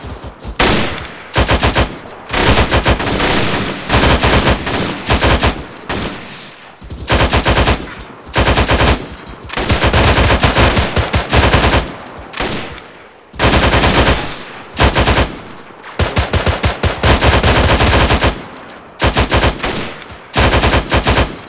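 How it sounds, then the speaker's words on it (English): Machine gun fire in the combat video game Arma 3, loud repeated automatic bursts separated by short pauses, close and dominant throughout with no talk over it. "We're taking fire from all over the place."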